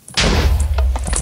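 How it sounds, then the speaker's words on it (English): TNT explosions in a jump map video game, a sudden loud blast with a thudding low rumble lasting about a second, followed by faint brief clicks. "stupid TNT explosions"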